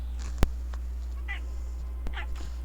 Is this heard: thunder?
no